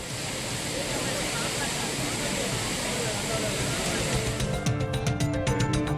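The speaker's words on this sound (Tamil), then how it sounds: "ஆர்ப்பரித்து கொட்டும் அருவி நீரில் சுற்றுலா பயணிகள் குளித்து மகிழ்ந்தனர்" Courtallam waterfall in full spate roars with a loud, dense, continuous rush of falling water where tourists bathe. Near the end, sharper pulsing sounds cut in over the roar.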